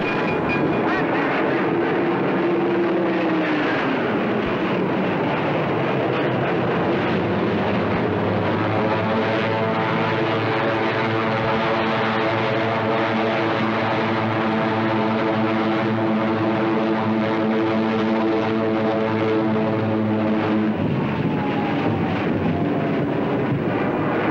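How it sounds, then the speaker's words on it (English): WWII Hurricane and Spitfire propeller fighter planes fly overhead, a loud sustained engine drone with rising and falling harmonic tones that swells and holds for over twenty seconds without talk. "5 squadrons of Hurricanes and Spitfires rose to the occasion and took to the skies"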